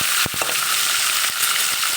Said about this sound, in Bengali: ভালো করে মাছগুলো তুলে ভেজে নিতে হবে